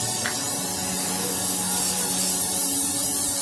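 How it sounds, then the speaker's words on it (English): Spray glue hisses from an aerosol can onto foam while a side table is being upcycled, a steady, loud, close spray that runs unbroken for about three seconds. "And so you spray the other surface of the foam."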